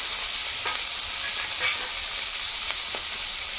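Onion frying in a pan gives a constant loud sizzle, with a few light scrapes and taps from stirring scattered through it.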